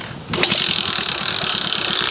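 Fast, rhythmic mechanical clatter of a coconut dehusking machine driven by a motorbike engine, close and continuous after a brief quieter start.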